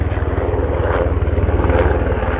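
A propeller aircraft drones loudly overhead on a forested hillside, with a strong low pulsing engine beat that holds steady throughout before cutting off abruptly at the end.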